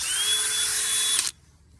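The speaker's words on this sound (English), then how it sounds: "DCH133 SDS Plus hammer drill." A DeWalt DCH133 20V cordless SDS Plus hammer drill whines loudly at a steady high pitch for over a second, then cuts off abruptly into near silence.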